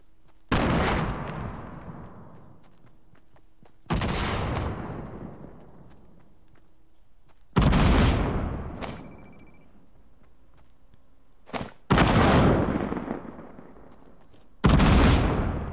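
Loud, sharp explosions and gunfire in a shooter video game, including a grenade blast, arriving as five separate bursts spaced a few seconds apart, each decaying with a long echoing tail.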